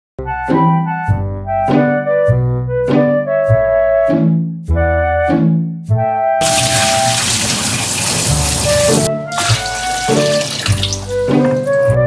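Tap water pours into a laundry basin before the soap goes in, a loud, steady gushing rush that starts about halfway through and continues to the end, with a short gap, over light background music.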